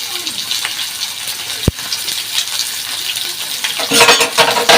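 Onions sizzling and frying in a pan for palak paneer, a loud, close, continuous crackle with stirring scrapes and one sharp knock partway through.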